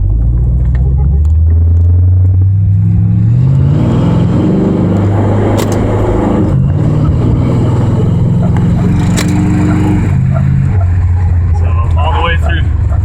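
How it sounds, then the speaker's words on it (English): A V8-swapped Mazda RX-7 with a three-speed C4 automatic pulls away and climbs through its gears, the loud, close engine rumble rising in pitch with each shift and dropping back between them. "So get down to first gear here"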